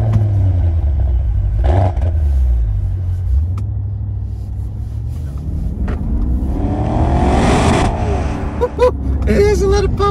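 A 580 hp Maserati Quattroporte Trofeo in Sport Corsa mode rumbles and rises in pitch as it accelerates, a steady loud engine drone building toward the end with brief mechanical clatter.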